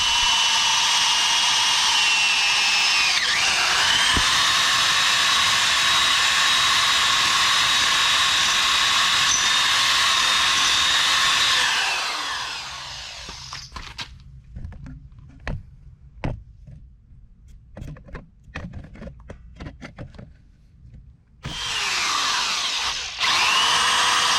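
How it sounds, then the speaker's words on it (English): A power drill whines loudly and steadily for several seconds drilling a metal seat bracket, then stops amid clicks and clatter before spinning up again near the end. "I'm about to drill this seat bracket right here"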